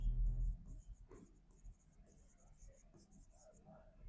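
Chalk or marker strokes on a board during a physics lecture, light scratchy taps in short runs, faint under a low room hum.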